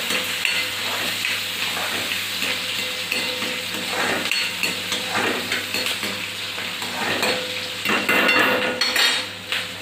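Onion sautés in a pan over a low flame, a steady soft sizzle close by with frequent scraping and clinking stirring strokes throughout.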